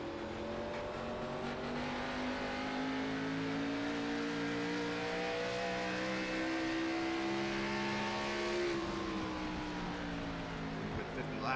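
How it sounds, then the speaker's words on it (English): Stock car engines in an Xfinity Series sim racing game at New Hampshire, a continuous loud whine of several cars at steady high revs with shifting pitch, under commentary. "There's Tommy in the Virginia811.com car."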